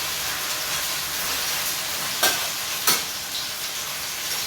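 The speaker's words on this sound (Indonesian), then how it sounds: "kalau sayurnya sudah merata dengan minyak ya, kepaduk semua dengan minyak seperti ini" Vegetables stir-fried in oil, a steady close hiss of frying with two sharp scraping stirs near the middle.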